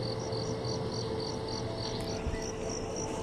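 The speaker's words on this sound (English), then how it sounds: "that noise. Oh, cricket." Insect-like cricket chirping in Five Nights at Freddy's 4, a regular pulsing trill repeating over a low ambient hum, faint and continuous.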